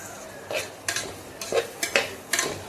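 Chopped onions go into a pan with garlic for mutton biryani and are stirred, giving a series of separate metallic spoon scrapes and knocks against the pan over a faint sizzle.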